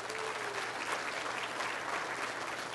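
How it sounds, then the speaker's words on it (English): An audience at a live physics show claps together in a steady, continuous round of applause, heard from some distance and fairly quiet, with no talking. "give yourselves a round of applause now"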